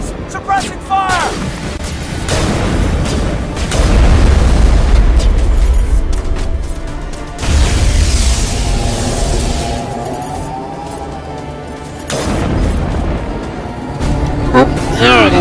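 Gunfire and explosions from a Mass Effect battle, with loud booming blasts and bursts of shots rolling on continuously, under and between a person talking.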